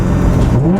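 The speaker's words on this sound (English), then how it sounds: "Oh, that rev match though." A modified 700 wheel-horsepower Nissan Nismo engine blips up in a rev-matched downshift, a loud, close, rising engine roar heard from inside the car.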